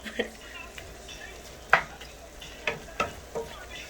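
Ground beef and potato fry in a pan while a utensil stirs them, a steady sizzle broken by several sharp scraping clinks against the pan, close up.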